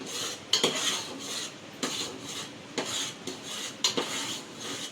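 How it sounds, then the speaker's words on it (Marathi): A spoon stirs melting jaggery syrup in a pan over low heat for methi laddu, scraping against the metal in repeated sharp strokes about once a second, close and clear with no talking. "जोपर्यंत गूळ वितळत नाही तोपर्यंत आपण मंद आचेवर असा त्याला ढवळत राहायचं, पाक तयार होईपर्यंत."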